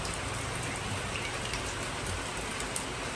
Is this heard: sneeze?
no